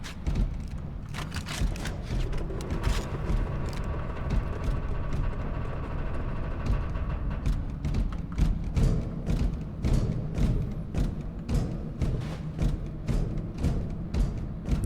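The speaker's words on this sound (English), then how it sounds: "you hear them thumping against the door" A squad in Space Hulk: Deathwing thumps against a door, producing a long run of repeated heavy thuds at an uneven pace over a steady low mechanical drone, without any talk.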